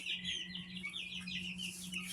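Young chicks and a cockerel in a garage brooder give faint chirps and clucks over a low steady hum.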